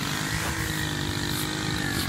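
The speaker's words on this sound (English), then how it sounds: "There were workers out doing the weed eating and stuff" A weed eater trims grass in a cemetery, a steady buzzing engine drone heard at a distance, continuous and fairly faint with no talking.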